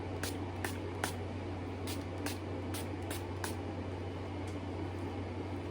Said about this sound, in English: I'm using the matte spray again.